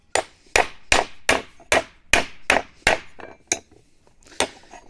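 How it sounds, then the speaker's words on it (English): A hammer strikes a metal e-bike bracket to bend it: about ten sharp, ringing blows, close and loud, steady at first and then spacing out toward the end. "So let's see if you just have a hammer,"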